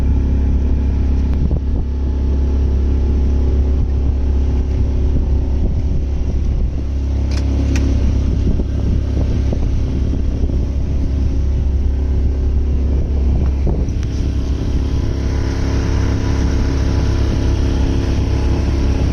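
A sailboat's engine motors offshore on a calm, foggy night between Washington and California, giving a loud, constant low drone and rumble throughout with faint wind buffeting. No talking.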